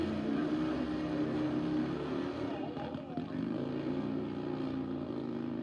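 A Top Fuel Harley drag motorcycle launches down the track at Mission Raceway, its rear tire spinning, with a loud, steady, unbroken engine roar that holds at full volume for the whole stretch.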